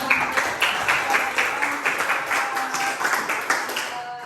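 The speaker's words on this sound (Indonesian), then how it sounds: "Oke, aplaus yang meriah juga." A group of people applauds after a group's presentation in a teacher training class, a steady patter of hand claps lasting several seconds at moderate volume.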